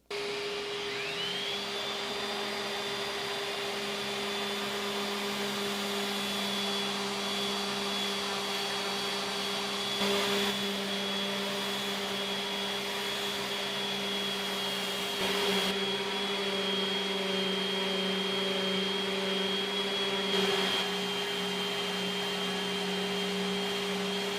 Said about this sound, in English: I'll get the rest of this stuff sanded up